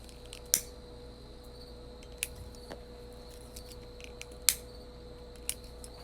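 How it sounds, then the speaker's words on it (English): Several sharp clicks of a lighter being flicked to light a cigarette snap at uneven intervals over a faint, steady hum, close by. "I'm gonna light up a cigarette real quick"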